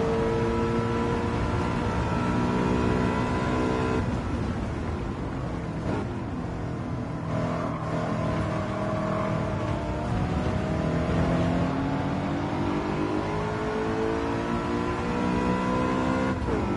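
BMW race car engine in the Gran Turismo 7 racing game, a loud continuous drone rising and falling in pitch as the car accelerates and shifts through corners.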